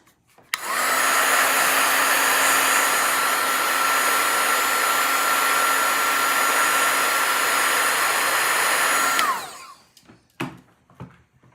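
A loud, steady blower hum from a heat tool drying iridescent aqua antique color stippled on a metal piece runs unbroken for about nine seconds, then cuts off, followed by a few faint clicks and handling noises.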